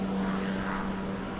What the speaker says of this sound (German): Hast du den Hubschrauber gehört?